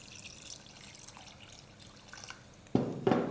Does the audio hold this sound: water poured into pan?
yes